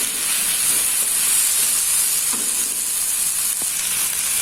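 Shredded pindang fish stir-fried in a hot pan with young jackfruit: a steady, close, unbroken sizzle and hiss of oil with occasional faint stirring knocks.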